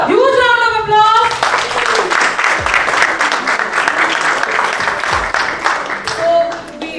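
An audience at a corporate event bursts into a loud round of applause, dense continuous clapping with cheering voices, fading slightly near the end.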